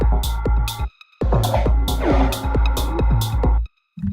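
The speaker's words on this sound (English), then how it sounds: "this sound you just heard is a snare sound from Arto's snare, hit by hand" Snare drum from a techno production session struck by hand, a series of sharp, close hits in an uneven rhythm with ringing tonal tails, a couple of brief silent gaps and a final soft tap.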